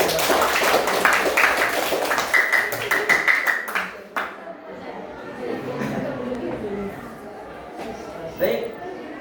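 Students in a madrasah classroom clap their hands in a short burst of rapid claps, followed by chatter and a teacher talking over the room.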